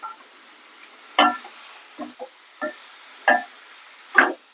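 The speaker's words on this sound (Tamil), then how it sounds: "போட்டு நல்லா கத்திரிக்காய் வதக்கிடுவோம்." Brinjal pieces sauté in a pan with ginger and garlic: six short, distinct stirring scrapes with light sizzle, separated by quiet gaps.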